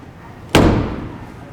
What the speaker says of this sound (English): Push to open the trunk.